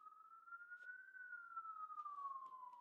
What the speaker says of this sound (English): let's let the sirens go